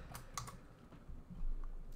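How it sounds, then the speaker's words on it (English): Keys on a computer keyboard, including the F4 key, are pressed in a few quiet, sharp clicks near the start, followed by faint background noise. "I'm going to press F4 on my keyboard to lock this in place"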